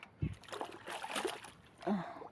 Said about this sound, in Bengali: নোংরা না থাকে ভীষণ ভালো করে ধুতে হয় দেখুন আমি ধুচ্ছি